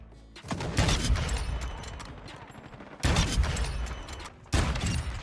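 MCPR 300 sniper rifle firing in Modern Warfare 2, three loud booming shots spaced a couple of seconds apart, each with a sharp crack and a long rolling tail, with no talk.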